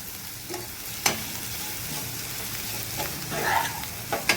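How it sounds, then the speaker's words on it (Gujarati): Karela (bitter gourd) curry with spices and dhania-jeera powder being stirred in a pan, a continuous sizzle with a few light scrapes and spoon knocks against the pan. "શાકને બરાબર હલાવી લેવાનું છે જેથી કરીને જે આપણું મસાલો છે તે બરાબર મિક્સ થઈ જાય"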